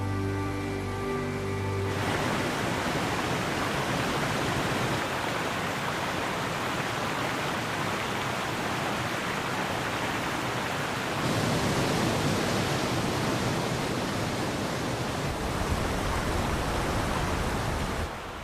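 Rapids on the Nile River rush in a steady, loud, broadband roar of churning water that continues unbroken throughout.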